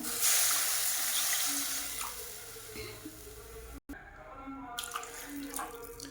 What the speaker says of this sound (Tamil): ரசம் கரைச்சி வச்சுருக்க பார்த்திங்களா புளி அதை வந்து ஊற்றிக்கிறேன்